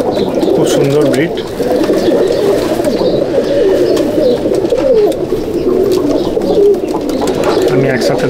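Madrasi pigeons in a loft cooing continuously, many overlapping soft throaty coos close by forming a dense murmuring bed, with a few faint chirps mixed in.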